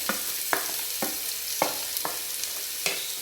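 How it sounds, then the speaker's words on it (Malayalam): Onions sautéing in a pan for a beef roast, a soft steady sizzle broken by several sharp scraping stirs at irregular intervals, close and fairly quiet with no talking. "ആദ്യം ഞാനങ്ങ് സവാള ഇടുക കേട്ടോ സവാള കുറേ വഴന്ന് വന്ന്"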